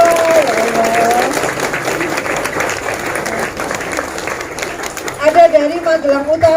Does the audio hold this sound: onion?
no